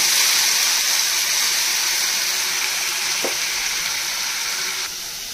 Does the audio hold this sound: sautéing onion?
yes